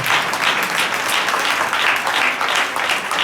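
A church congregation applauds at a New Year prayer service, loud dense clapping that goes on steadily throughout, with no voices over it.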